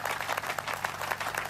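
Brief burst of clapping for a hair growth oil maker, a few hands patting in a steady dense patter close to the microphone, short and fairly soft with no voices.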